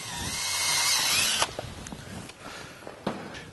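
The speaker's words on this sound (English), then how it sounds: "I will actually just go ahead and drill the center of the plastic out." A power drill whirs steadily at high speed for over a second, drilling out the center of a plastic plug on a Jeep JK front bumper, then stops, followed by scattered clicks and scraping of plastic bits.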